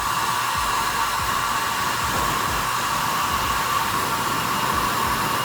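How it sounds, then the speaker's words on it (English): Hair dryer blowing steadily on its heat setting while hair is combed and styled, a loud, constant close-up whoosh of airflow with a motor hum, running alone without a break. "I'm going to use the hairdryer with the heat, with the comb, pushing the hair to the right and to the left."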